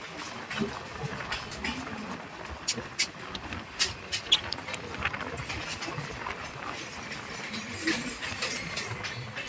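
The Doon Express passenger train rolls past with a steady broadband rumble and irregular clattering clicks from the wheels, fairly close and continuous throughout.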